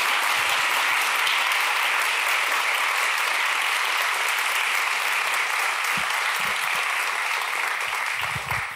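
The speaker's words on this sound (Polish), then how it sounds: "Brawa dla Igi" Sustained applause from a large audience at a finance industry gala in Poland, thick and even clapping that stays loud for nearly nine seconds with no voices over it.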